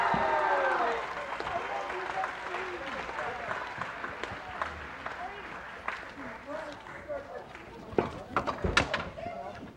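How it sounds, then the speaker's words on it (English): A crowd gives a round of applause for graduating seniors of 2020 at a ceremony with a marching unit, the clapping faint and distant, fading and scattered, with a few louder sharp knocks toward the end. "Can you please give them a round of applause?"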